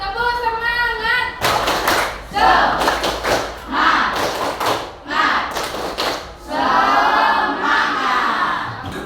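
A group of participants performs the tepuk semangat clapping routine as an ice-breaker, with bursts of rhythmic claps and thumps and loud shouted chanting between them.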